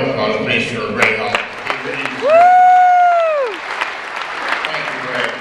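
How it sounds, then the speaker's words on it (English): Applause for an honoree at a meeting rises under some voices, joined midway by a loud, sustained, whistle-like tone that swells and falls away before the clapping settles. "let's hear a round of applause, please, for Ray Hall"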